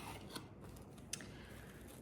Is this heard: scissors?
yes